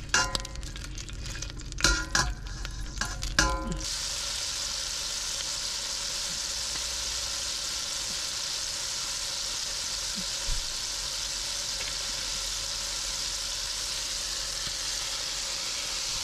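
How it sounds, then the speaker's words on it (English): Tomatoes cooking in a pan, opening with a few clanks and scrapes of stirring, then a steady, even sizzle that continues alone for the rest of the stretch. "We're gonna cook and stir until the tomatoes get a little color on them and they start to get a little wrinkly."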